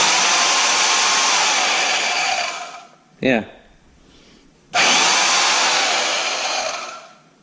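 Chicago Electric portable bandsaw running with a loud, steady whine that fades out, a brief spoken word in the gap, then the saw starts again at full volume and runs before winding down.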